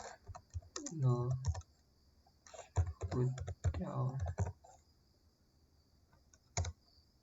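Keys clatter on a computer keyboard in quick bursts of light clicks while a network interface is configured. A voice talks over much of the typing, and a lone sharp click follows near the end.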